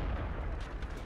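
A single heavy tank gun discharge in World of Tanks, a deep booming blast with a rumbling tail, fairly subdued and brief.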